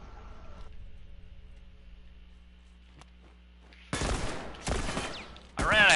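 Gunfire in The Worst of Us arrives as two or three loud, close bursts late in a quiet stretch of low background hum, with a short voice blip at the very end.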